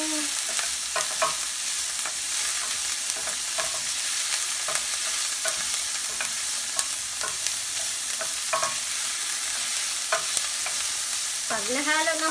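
Onion stirred in a hot pan for papaya in coconut milk with dried fish, a steady sizzle under repeated scraping strokes of a utensil, close and even throughout.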